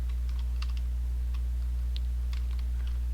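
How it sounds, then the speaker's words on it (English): Keys on a computer keyboard are tapped during Minecraft gameplay, a series of light irregular clicks sitting over a steady low electrical hum. "you can hear me like tapping all my buttons on my keyboard"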